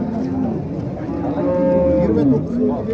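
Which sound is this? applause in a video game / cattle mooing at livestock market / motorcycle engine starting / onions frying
cattle mooing at livestock market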